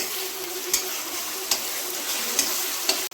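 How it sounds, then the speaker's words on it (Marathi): Sliced onions frying with ginger-garlic paste for an egg masala curry, a constant bright sizzle with a spoon scraping and stirring the pan every second or so. "अद्रक लसूणची पेस्ट आपण टाकत आहोत आणि छान असं आपण हलवून घेत आहोत"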